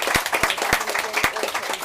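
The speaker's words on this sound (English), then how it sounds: "But if we could give Dehenna a round of applause, very grateful." A panel event audience gives a departing speaker a round of applause, a medium-sized crowd clapping with distinct, fairly close individual claps standing out from the steady patter for under two seconds.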